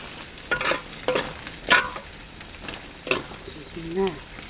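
Squid cooks in a pan with a soft continuous sizzle, punctuated by several distinct scraping stirs of a spatula against the metal, close and moderately quiet.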